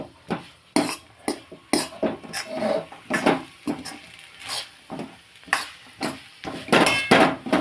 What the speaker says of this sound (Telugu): మన కొత్తిమీర గ్రేవీని మొత్తం అంతటినీ కలిపేసుకుందాం.